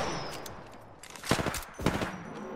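Gunfire in the video game Hemlock, a pair of short bursts of shots landing about a second apart over steady background game noise, moderately loud and not very close.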